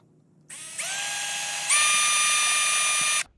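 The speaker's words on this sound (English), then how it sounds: "I am using just a small drill bit to drill pilot holes where my screws are going to go at." A power drill with a small bit bores pilot holes in thick sheet metal on a 1990s two-door Chevy Tahoe, whining steadily at rising pitch for about three seconds before stopping.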